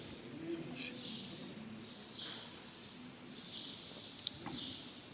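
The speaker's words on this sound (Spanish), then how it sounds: "Mira, los pajaritos están alegres." Small birds chirp and coo faintly in the distance, short calls repeating over a quiet background with a low murmur.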